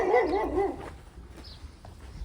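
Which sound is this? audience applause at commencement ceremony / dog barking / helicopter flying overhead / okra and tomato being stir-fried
dog barking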